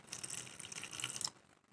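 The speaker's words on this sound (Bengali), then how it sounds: "এখন হালকা জল দিয়ে দিচ্ছি" Water poured lightly over wood apple pulp in a bowl, a steady close splashing trickle lasting just over a second before stopping, with no talk.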